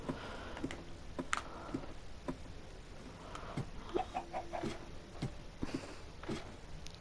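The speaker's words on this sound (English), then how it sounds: "let's actually check on the chicken" Minecraft chickens cluck softly and sporadically on a farm, scattered short clucks at moderate distance with quiet ambient game sound between them.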